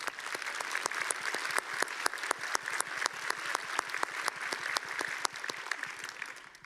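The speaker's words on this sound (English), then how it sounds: "Round of applause for you all." An audience applauds for visiting high school scholars at a large dialogue event, dense steady clapping from a sizeable crowd that holds for several seconds before thinning out.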